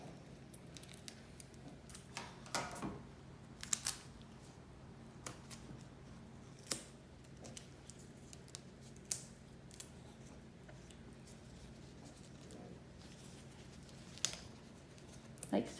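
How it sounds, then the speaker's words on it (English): Scissors cut a nasogastric tube. A few faint, sharp snips and clicks are scattered over a quiet room background. "we're going to cut our tube in a Y formation and anchor it to the nose"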